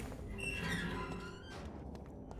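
A creaky door swings open in the video game Vampyr, a drawn-out high squeal of old hinges over low ambient game background, then soft knocks as it settles.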